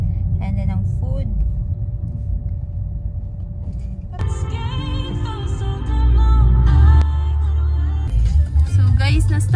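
Road traffic in Cagayan de Oro rumbles low and constant around a stuck car, with engine drone and passing vehicles, while someone talks over it and a tonal melody briefly rises in the middle.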